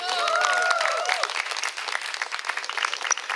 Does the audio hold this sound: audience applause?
yes